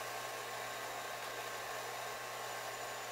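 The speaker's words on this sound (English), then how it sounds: "We have it to bleed a little air out right now" Air bleeding from the 6-inch by 30-inch stroke air cylinder on a 500-gallon Hamilton agitated kettle, a steady, close hiss with a low hum beneath, unbroken throughout.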